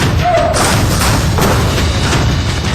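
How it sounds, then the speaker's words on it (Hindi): A door is blown open with an explosive charge, a loud heavy thud and boom that fills the short span with dense, rumbling low-end noise, close and overpowering. "अंदर दाखिल होने के लिए पहले तो इस दरवाजे को धमाके से उड़ा दिया जाता है"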